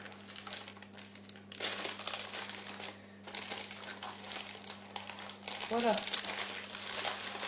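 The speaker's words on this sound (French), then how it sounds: "J'enlève tranquillement mon papier doucement, hein, doucement à ce stade. Tranquillement mon petit papier" Parchment paper is peeled slowly from tart dough for a quince tarte Tatin, giving close, continuous crinkling and crackling with a brief crisp tear-like burst near the end, while a person speaks softly throughout.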